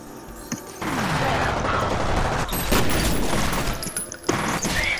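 Shotgun blasts and surrounding gunfire in the shooter game F.E.A.R., loud and dense, with sharp booming reports and mechanical clatter filling most of the stretch, and a brief lull before another burst near the end.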